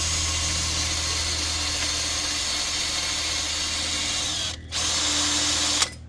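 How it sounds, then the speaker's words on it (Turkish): A power drill boring a hole in a plastic panel under a Corsa D steering wheel whirs continuously at close range, briefly stopping once before spinning up again and then cutting off. "şarj ile veya matkapla bir delik açıyoruz buraya"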